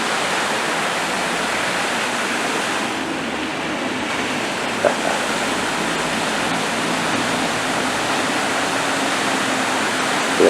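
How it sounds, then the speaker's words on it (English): Water fountain outside Middlesbrough Town Hall splashing in a steady, loud, continuous broadband rush with no voices over it. "just look at that lovely fountain"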